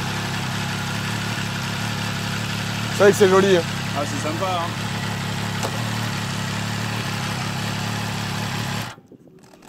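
MV Agusta Brutal 800 motorcycle idles on its stock exhaust, a steady, low, close rumble running throughout while people chat briefly over it, then cutting off near the end.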